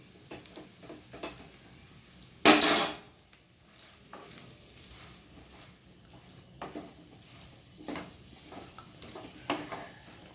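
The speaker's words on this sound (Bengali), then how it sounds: "এবার এটাকে খুব ভালো করে মিশিয়ে নেব।" A paste of soy sauce, chilli sauce and tomato sauce is stirred in a pan, with soft sizzling, scattered utensil taps and scrapes, and one sharp loud clatter early on.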